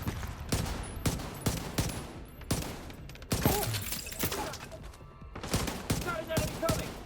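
Bursts of gunfire from the video game The Division 2, loud repeated shots and rapid automatic volleys in clusters, with brief pauses between them and faint voices underneath.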